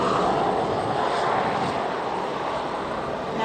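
A light Auster AOP Mark 9 propeller aircraft drones steadily overhead at the Biggin Hill airshow, a continuous broadband engine roar heard from a moderate distance.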